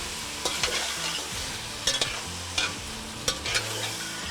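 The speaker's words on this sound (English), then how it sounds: "Let's give the meat a quick stir." Turkey meat sizzling and frying in a pot while a utensil stirs and scrapes, with several sharp clanks against the metal over a constant sizzle.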